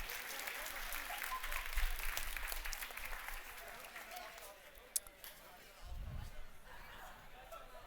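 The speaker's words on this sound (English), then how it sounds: "A round of applause to your friends." Audience applauding at a keynote talk, a dense steady patter of clapping that holds through the whole stretch and fades slightly, with a sharp single knock midway and low rumbles beneath.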